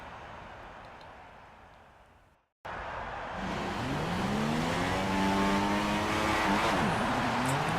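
Formula One race cars in F1 2016 at Monaco roll through the formation lap, several engines droning and rising in pitch together at close range, loud and steady after a brief cut to silence, with no talk.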